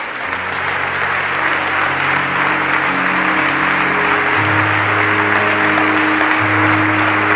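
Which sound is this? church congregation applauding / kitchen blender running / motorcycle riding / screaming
church congregation applauding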